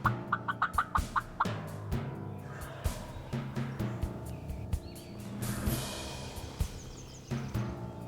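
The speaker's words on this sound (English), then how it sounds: "I just pressed record and let it roll because the gobblers were really gobbling good" Wild turkey gobblers in leafy woods during the spring season, quick rattling gobbles and clucks sounding at moderate distance, some bursts close together, mixed with occasional sharper knocks and background woodland ambience.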